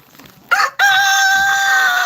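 Roosters in a backyard flock crow loudly and close by, one long sustained call following a short burst, with faint clucking just before.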